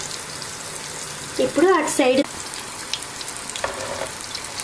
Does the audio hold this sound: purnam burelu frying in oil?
yes